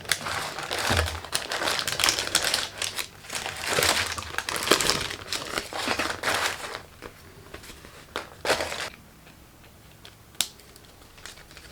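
Homemade fruit pastila is peeled off baking paper, making close, dense crinkling and crackling paper rustles that continue for several seconds, then thin out into a few isolated snaps before falling quiet.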